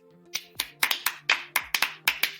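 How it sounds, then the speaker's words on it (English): Around ten sharp, separate hand claps in a loose, uneven rhythm, fairly close and distinct. Few hands are at work, so it sounds more like a small scattered group than a full audience. "Clap if you don't care."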